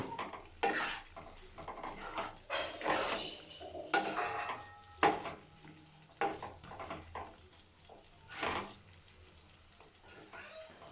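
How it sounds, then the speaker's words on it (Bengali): A spatula scraping and clattering in a metal pan while fried potatoes are mixed into oily masala for a Bengali tangra fish curry, with repeated irregular knocks and scrapes over a soft sizzle, close and moderately loud. "মশলার সাথে আলু ভাজাগুলো খুব ভালোভাবে মিলিয়ে মিশিয়ে নেব"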